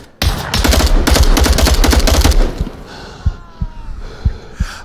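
Dense bursts of rapid automatic gunfire in a VR shooter game, loud and continuous for about two seconds, then tapering into scattered single shots and thuds with a faint background hum.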